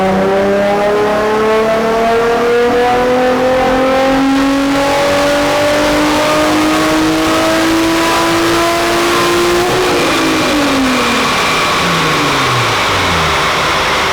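A Ford Mustang on a dyno revs hard and holds a long, steadily climbing wail through the gears, then backs off and winds down. It is loud and close throughout, with no voices.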